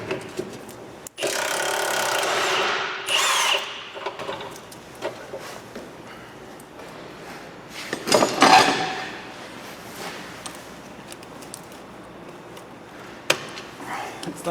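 Hand tools remove a bolt from a bracket on a Ford Focus Mk2 during clutch repair, making close bursts of scraping and ratcheting with scattered metallic knocks and quieter gaps between.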